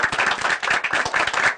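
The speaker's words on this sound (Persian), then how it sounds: "آقا بهرام عزیز رو تشویق میکنید" An audience claps in a studio during a TV game-show episode, brisk, dense rhythmic hand clapping, loud and close, continuing steadily with no talk over it.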